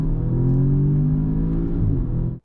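A car with a Cobb Stage 1 tune and summer tires accelerates hard in second gear from 50 to 100 km/h, a loud steady engine drone rising in pitch before cutting off abruptly.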